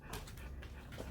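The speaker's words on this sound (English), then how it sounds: "the dogs want to tear each other apart and it is very loud" Dogs in a home whimpering and scuffling as if about to fight, short yips and whines repeating close by over a steady noisy background, no talk.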